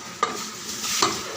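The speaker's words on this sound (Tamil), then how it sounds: "அப்படியே குக்கர் மூடிடலாம்." Two sharp metallic clanks, a second apart, as a pressure cooker lid is set down and locked over rice and biryani ingredients, over a steady background hiss.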